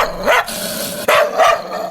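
A dog barks twice in quick succession, loud and close, with a short gap between the sharp calls.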